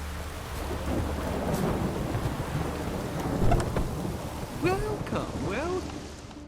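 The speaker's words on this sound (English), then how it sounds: "A storm, damn it." A thunderstorm in The Witcher 3: Wild Hunt on PS4: steady rain with low rolling thunder, plus a few short chirping calls near the end.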